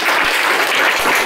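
Children applaud together in a steady, dense burst of clapping that fills the whole short moment, loud and close with no talking.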